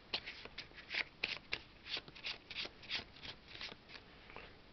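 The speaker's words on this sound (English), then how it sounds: "We draw three cards from the item deck." Cards from a board game's item deck are handled and drawn, producing soft, close, rapid papery flicks and rustles in an irregular rhythm, faint overall.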